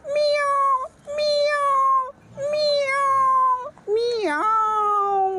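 A man imitates a cat with his voice, giving four drawn-out meows in a row, loud and close, the last one bending sharply in pitch like a yowl.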